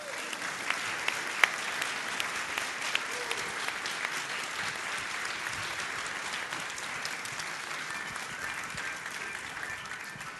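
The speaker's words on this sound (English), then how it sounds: "So we welcome them with our applause" A congregation applauds to welcome a new membership class at a Unitarian Universalist gathering, with steady, even clapping from many hands sustained throughout at moderate loudness without speech.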